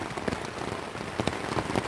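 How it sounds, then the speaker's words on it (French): Heavy rain drumming on a shelter overhead, a dense steady patter of close drops with occasional louder splats, no voices. "quand ça pleut comme ça."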